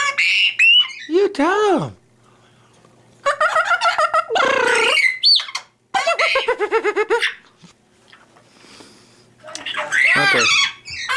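Amazon parrots squawk and whoop in loud, bursting calls that sweep up and down, trading off with people speaking and coaxing the birds close by.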